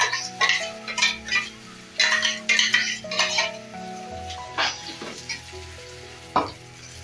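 Masala paste fries with tomatoes in a pan for brinjal masala curry, with a soft sizzle broken by repeated scraping and knocking stirring strokes against the pan under quiet background music.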